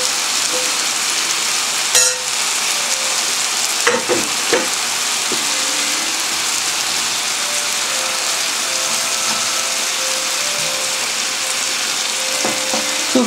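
Fish, nuts and tomato sizzle steadily in a hot pan on the cooker, a constant loud hiss with a few sharp clicks and scrapes of stirring scattered through.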